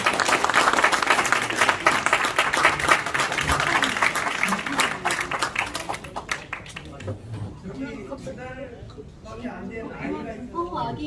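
Clapping from an audience at a charity fundraising night for a cartoon exhibition rings out for about six seconds, then thins out and gives way to people talking nearby.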